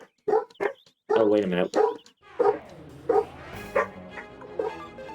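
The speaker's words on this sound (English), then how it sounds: "They scared the unicorn away with their barks." Dogs bark and yip in the video game Suikoden II, several sharp, separate barks near the start, followed by whimpering and yelping while someone talks over them.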